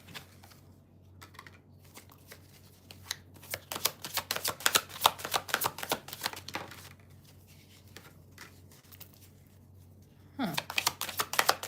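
A tarot card deck shuffled by hand in quick riffling bursts, crisp and close, with quiet pauses between the runs of cards.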